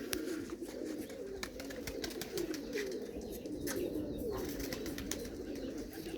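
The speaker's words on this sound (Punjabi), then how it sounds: "ਲਓ ਜੀ ਇੱਕ ਗੋਲਡਨ ਲੱਖਾ ਜਿਹਾ ਕਬੂਤਰ ਹੈ" A golden pigeon and others coo in a steady, low burbling chorus close by, with faint chirps and light rustling mixed in.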